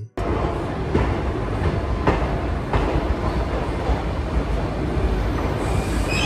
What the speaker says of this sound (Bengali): 5 মিনিট দাঁড়িয়ে এই ট্রেন রওনা দেয় তার পরবর্তী গন্তব্যের উদ্দেশ্যে